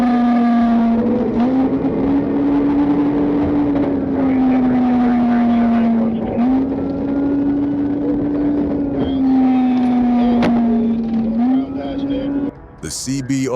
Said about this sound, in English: spotted a 2021 Honda CBR 1000RR blasting past at breathtaking speed